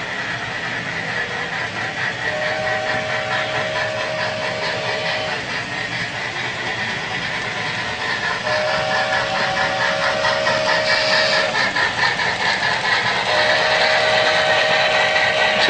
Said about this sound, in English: Got a steam train coming here